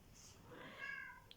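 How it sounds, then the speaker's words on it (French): A small pet cat gives one soft, faint meow that rises and falls in pitch, followed by a tiny click, in an otherwise quiet room with no talking. "J'ai ma petite minette qui miaule."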